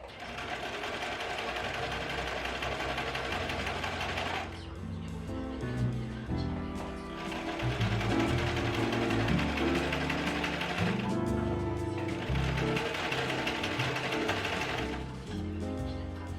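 A sewing machine stitches curtain fabric in three long whirring runs, with brief pauses between them, heard close and clear.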